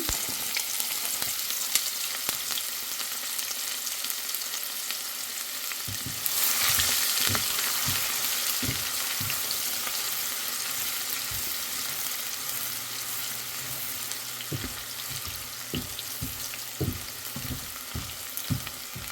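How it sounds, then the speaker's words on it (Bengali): Chopped onions fry in hot oil for fish kopta, a steady dense sizzle running throughout with occasional clinks and scrapes of a spatula stirring the pan. "এর মধ্যে একটু তেলটা গরম করে পেঁয়াজ কুচি দিয়ে দিয়েছি।"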